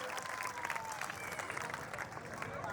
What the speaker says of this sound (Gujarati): જોરદાર તાળીઓથી વધાવી લઈએ ફોજી ભાઈઓને.